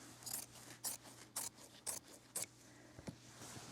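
Scissors make a series of about six quick, crisp snips while rough cutting fused applique fabric, spaced roughly half a second apart at close range with no talking.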